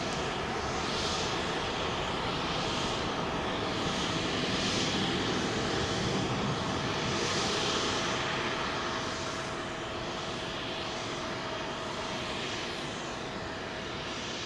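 A Boeing 777 airliner roars on runway 27L at London Heathrow, a broad, sustained jet rumble with a sweeping, slightly pulsing hiss, loud and steady throughout with no talking.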